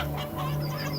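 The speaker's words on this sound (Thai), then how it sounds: "เพื่อนคนหนึ่งในกลุ่มก็ได้ยินเสียงไก่ร้องกระตากกระตากดังขึ้น" A chicken clucks in short repeated bursts over a steady low hum, fairly faint and somewhat distant.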